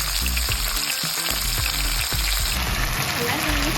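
Pork sizzling and stir-frying in a hot pan with bagoong, a loud continuous crackle with stirring knocks and scrapes throughout.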